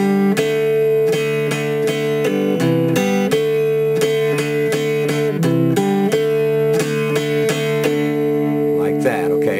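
An acoustic guitar is strummed with steady up and down strokes, a continuous rhythmic run of bright chords with a few chord changes, played alone and close.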